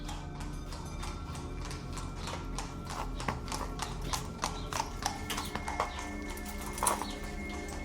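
Horses' hooves clip-clopping in a historical audio drama scene, a close, steady run of hoof strikes with birds cooing faintly in the background.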